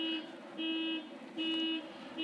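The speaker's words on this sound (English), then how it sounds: "the car alarm going on right now." A car alarm blares in the background, its steady electronic tone switching on and off in a repeating pattern, moderately distant with no talk over it.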